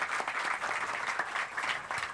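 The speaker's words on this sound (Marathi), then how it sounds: "जे वादक कलावंत आहेत त्यांच्यासाठी एकदा जोरदार टाळ्या झाला पाहिजेत" An audience claps steadily for the accompanying tabla and organ musicians at a Marathi commemorative music concert, a continuous wash of applause from many hands that stays fairly even throughout.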